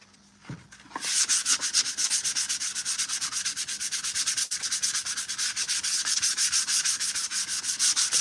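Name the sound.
sanding painted armor piece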